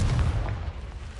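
A Confringo spell blast in Hogwarts Legacy, heard as a low, rumbling boom with a sharp burst at the start that rolls on steadily for about a second.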